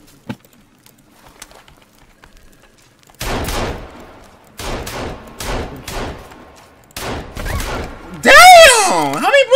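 Gunfire in the survival game Sons of the Forest: a faint thump, then four loud bursts of rapid shots spaced about a second apart, followed by a shrill, wavering creature scream.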